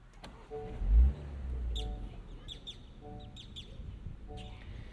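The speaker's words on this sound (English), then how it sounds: "Lots of birds chirping," Short bird chirps and tweets repeat sporadically outdoors, fairly faint, with a low thump early on and quiet background ambience.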